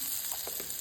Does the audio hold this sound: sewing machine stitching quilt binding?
no